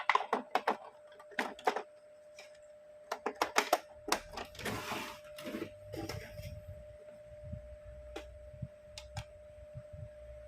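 An Epson printer powers on and initializes with a quiet series of clicks, ticks and short mechanical whirs, irregular and close, with a faint steady hum beneath.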